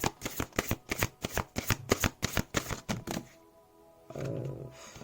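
A deck of oracle choice cards is shuffled in a rapid, rhythmic series of about a dozen crisp riffling snaps, close and fairly loud, followed by a brief pause and a softer rustle.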